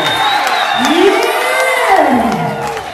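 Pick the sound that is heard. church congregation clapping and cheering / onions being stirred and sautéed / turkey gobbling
church congregation clapping and cheering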